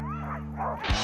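A sled dog gives short yips and a whimper ahead of a dogsledding run, with one sharp close thump near the end.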